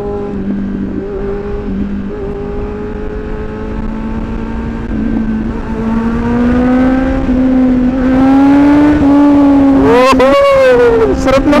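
Kawasaki Z900 motorcycle on a test ride, its engine note climbing steadily as it accelerates through the gears, loud and close with wind rush, ending in a sharp rising rev.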